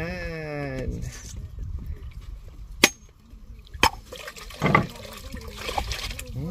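Water pours and trickles outdoors while jackfruit is picked and prepared for a meal, with splashy bursts and a few sharp knocks. People talk throughout.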